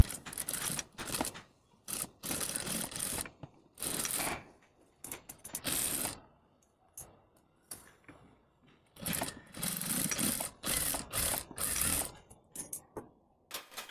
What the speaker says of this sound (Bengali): শোল্ডারের উপরে আমি আরেকটি চাপ সেলাই দিয়ে নিচ্ছি